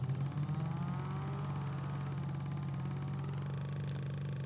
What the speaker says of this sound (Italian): Bel rombo intanto. Si sente che è un'auto che brucia benzina volentieri.